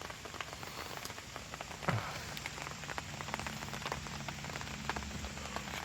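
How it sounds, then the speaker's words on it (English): Rain pattering on a tent fly, a steady close patter of many small drops with a few louder taps, and no talking. "And we're experiencing rain."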